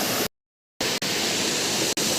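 Forest waterfall near Koraput, a steady broadband roar of falling water, close and loud, briefly cut to silence early on and otherwise continuous without speech.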